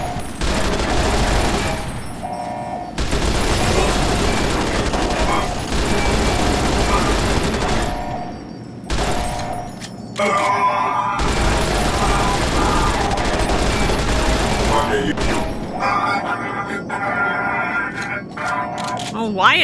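Sustained bursts of rapid automatic gunfire from a firefight in the video game Fallout New Vegas, loud and dense, with brief pauses between volleys and scattered single shots near the end.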